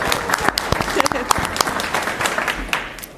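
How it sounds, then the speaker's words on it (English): Audience members at a city commission meeting clap for an employee service award, a scattered, moderately loud patter of claps with a voice and room noise mixed in underneath. "Well, let's give her a round of applause anyway."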